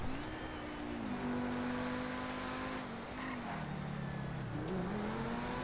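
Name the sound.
Progen T20 car engine revving in a video game (GTA)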